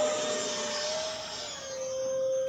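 E-Flite Habu SS 50mm EDF model jet under throttle, a loud, steady high-pitched ducted-fan whine with a sustained tone that dips slightly and then rises again.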